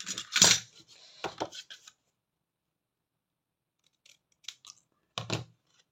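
Scissors snip through paper or card while a small flower stand with drawers is being made, a few quick crisp cuts close up, then a pause and a couple more sparse snips, with no talking.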